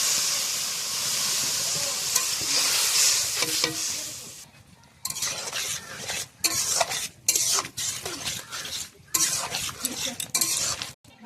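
Spices being stirred in a pan on a wood-fired village stove, a steady scraping stir over a hot sizzling hiss, with brief pauses where the stirring stops and starts again in short bursts.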